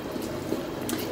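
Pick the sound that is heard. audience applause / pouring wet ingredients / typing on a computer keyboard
pouring wet ingredients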